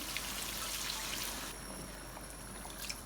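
One and a half cups of water poured into a mutton karahi, giving a soft, steady splashing and trickling that runs continuously for about three seconds, fairly faint and without speech.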